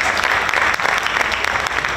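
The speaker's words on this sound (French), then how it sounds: "Applaudissez-vous s'il vous plaît, merci beaucoup" Loud audience applause at a Haitian talk show magazine event in North Miami Beach, a thick, continuous wash of clapping from a crowd, close and steady for the whole stretch.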